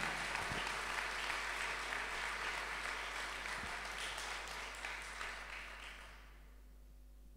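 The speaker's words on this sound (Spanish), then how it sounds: "un aplauso para este excelente pianista" A concert audience applauds a pianist at an Italian Immigrant Day event, a soft, steady patter of many hands heard from a distance that dies away abruptly near the end, leaving a low steady hum.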